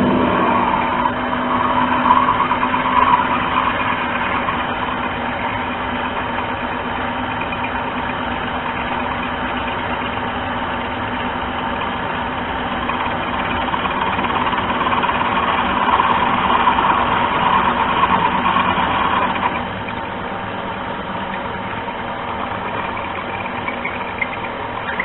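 A mini lathe running a final single-point threading pass gives a continuous motor hum with a faint grinding texture. It holds steady, then eases slightly toward the end, with no voices.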